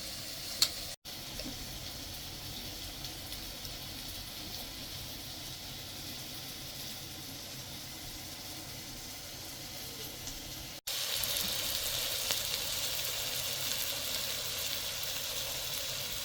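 Sausage pie ingredients frying in a Trangia camping pan, giving a steady, continuous sizzle close by that turns slightly louder and brighter partway through, with no talk.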